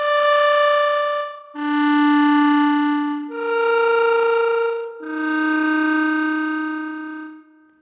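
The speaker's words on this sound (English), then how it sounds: "we're gonna start off with the flutter tongue." Solo clarinet in a warm studio setting playing four sustained flutter-tongued notes, each a buzzy, rolling tone lasting over a second, loud and close, alone with no voices.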